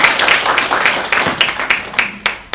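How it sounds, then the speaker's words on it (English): Applause from a symposium audience at a formal stakeholders' event, a steady, moderately loud wash of many hands clapping with scattered sharper claps standing out over the roar. "A round of applause for"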